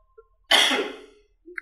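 A single loud, harsh cough bursts out in a quiet indoor setting during a coding tutorial, trailing off over about half a second, followed by a brief faint noise.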